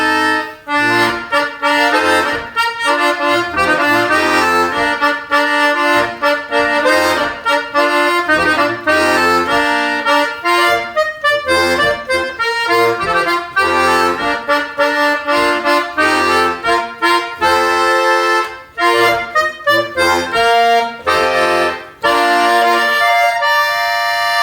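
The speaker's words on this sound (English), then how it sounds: "which is the Swiss button accordion." A Langnauerli Swiss button accordion, handmade in Switzerland, plays a Christmas carol at a holiday concert, a bright, steady reedy melody with chordal bellows accompaniment running continuously and close up, with no talking over it.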